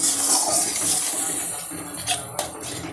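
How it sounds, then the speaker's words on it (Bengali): Water poured into a pan while okra is being cooked with rohu fish paste in mustard oil, with a splashing, rushing pour and a couple of clinks of metal cookware near the end. "জল দিয়ে দিলাম"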